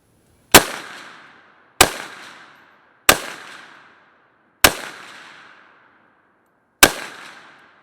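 Five loud, sharp shots from a J5 Tactical .50 Beowulf AR upper fired at a 100-yard target, each followed by a short ringing decay, spaced unevenly about a second or two apart, with no talking.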